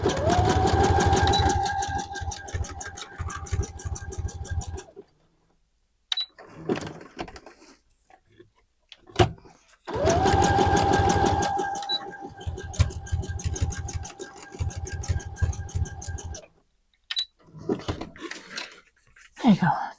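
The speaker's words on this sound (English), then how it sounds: "I'm going to then do a zigzag stitch across here." Home sewing machine running a zigzag stitch across elastic for leggings, with two steady whirring runs of about five seconds each, separated by quieter handling clicks and fabric rustles.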